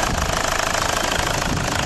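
A car engine runs loud and close, a dense, steady mechanical drone with a fast knocking pulse and no voices over it.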